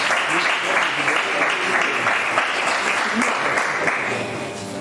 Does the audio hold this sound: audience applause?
yes